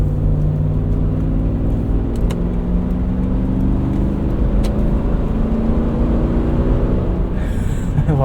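A 2000 Lexus LX 470 V8 with a muffler delete idles and revs, a loud, close, deep rumble with steady harmonic drone that rises and falls slightly, ending with a brief higher whir.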